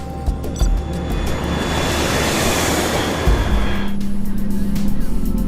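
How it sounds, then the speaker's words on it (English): Airbus A330 airliner with twin Rolls-Royce Trent 700 engines, a loud broadband jet roar that builds and then drops away, leaving a steady low engine drone. "The Airbus A330 is powered by 2 Rolls-Royce Trent 700 engines"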